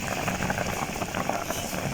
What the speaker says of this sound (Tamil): இப்பதான் கொதிக்குது